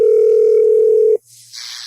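A home phone answering machine gives a single steady electronic tone lasting just over a second, loud and alone, then cuts off to quiet room hiss.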